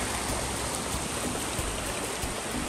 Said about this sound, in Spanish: Miren cómo está este río